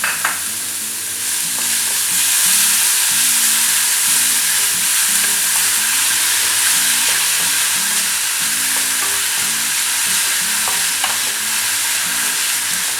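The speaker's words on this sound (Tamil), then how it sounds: "இப்போ வந்து ஆனியன் சேர்த்துக்கிறேன்." Onions sizzle in hot oil in a pan with asafoetida and are stirred with a utensil. A constant bright frying hiss runs throughout, and rhythmic scraping and stirring clatters sound close by.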